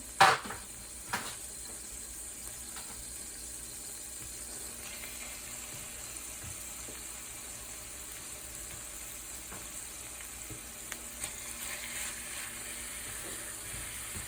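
Ground turkey searing in a pan with spinach greens, a faint steady sizzle with a soft clatter at the start and occasional light ticks.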